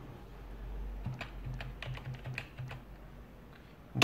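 Fingers type on a computer keyboard connected to a phone, a quick irregular run of close, crisp key taps ending in one louder press, with no talking.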